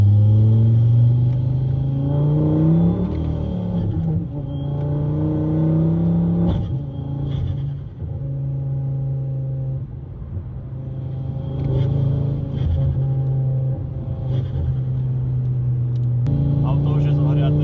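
A 300-horsepower Ford Focus ST accelerates hard while overtaking, its engine rumbling loud and close as the revs climb and drop through several gear changes.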